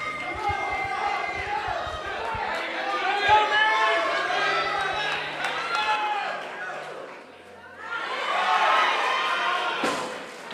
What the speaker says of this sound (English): This crowd's going crazy for her right now.